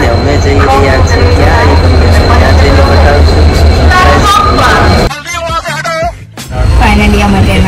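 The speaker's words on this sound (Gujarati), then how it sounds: "અમારી ગાડી આવી ગઈ છે અને અમે જઈ રહ્યા છીએ." A crowded train pulls into a station, its loud rumbling and rattling carriages filling the scene while a babble of people talks underneath, easing briefly before the roar returns.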